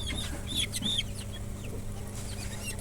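Young farm chickens cluck and peep in short, scattered calls as they are caught and gathered for weighing, moderately close over a steady low background hum, with no talking.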